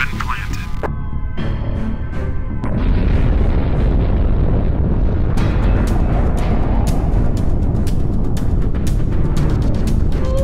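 A bomb detonates in a video game. Sharp clicks and chimes come first, then a heavy, loud blast that rolls into a sustained roaring rumble and fills the rest of the moment.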